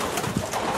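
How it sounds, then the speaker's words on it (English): Pigeon cooing from a racing pigeon hen in a loft, soft low coos close by and steady over a brief moment, with no talking. "This is a good pigeon."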